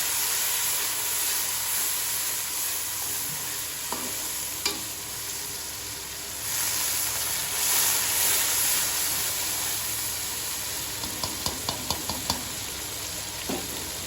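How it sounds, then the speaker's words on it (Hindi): A steady sizzle of ginger garlic paste frying with onion in a hot pan, with occasional stirring scrapes and small clicks of a utensil. "अदरक लहसुन के पेस्ट को भी हम अच्छी तरह से इसमें फ्राई करेंगे"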